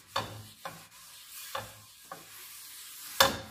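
A spinach pancake cooks in a buttered pan, with five separate scraping strokes of a utensil against the pan, each with a short sizzling hiss and quiet pauses between, close and without speech.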